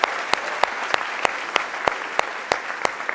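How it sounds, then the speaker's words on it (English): A crowd of admitted students at an early decision welcome event applauds steadily, with several sharp, loud claps standing out at regular intervals above the dense clapping. "Oh yes, clap for yourself."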